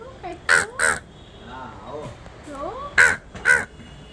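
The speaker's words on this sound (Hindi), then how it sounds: "नहीं नहीं कौवे हैं वो।" Several crows caw outdoors, two loud double calls near the start and again near the end, with fainter calls and a child's and adults' voices talking between them.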